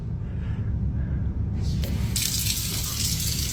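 Water runs steadily from a tap, a continuous close rushing stream that grows brighter and more splashy partway through, with no talk over it.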